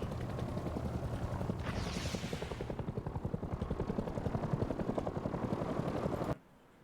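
A helicopter in the video game Rust gives a steady rotor thump at moderate distance, and the sound cuts off abruptly near the end.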